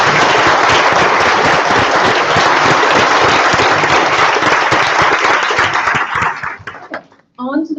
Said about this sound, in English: I'd just like to say, like to ask you to applaud for all of our volunteers